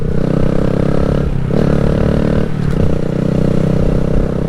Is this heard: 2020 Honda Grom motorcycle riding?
yes